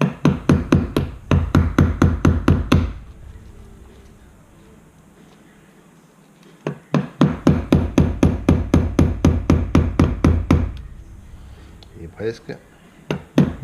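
A homemade nail tool is hammered into a Harley-Davidson Softail 1340 rear brake master cylinder. Rapid runs of sharp metallic blows come in two bursts separated by a lull, with a few more strikes at the end and someone speaking briefly.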